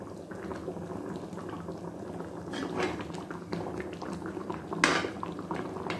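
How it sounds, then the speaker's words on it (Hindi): A pot of mango kadhi bubbles and simmers at a low, steady level, with soft gurgling pops and a few louder bursts from the boiling liquid. "अब इसे उबलने देते हैं।"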